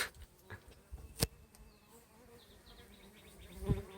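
Bees swarming on a paper-mache swarm trap buzz in a steady low drone, fairly faint, with a few scattered thumps and rustles nearby.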